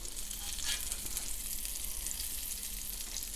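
Crab cakes fry in a pan with a steady, close, hissing sizzle that holds evenly throughout, a low background hum beneath it and no voices.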